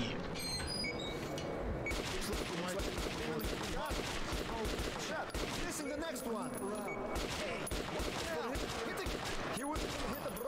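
An RPK machine gun fires in Metro Last Light Redux, a dense, continuous rattle of automatic gunfire with booming echoes lasting throughout, loud and busy with no pauses.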